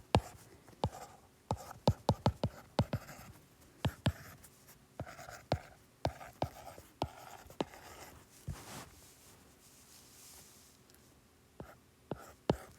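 A pen writes on paper up close, with sharp taps and short strokes in irregular bursts, quiet and alone for most of the stretch, then fading to sparse scratches.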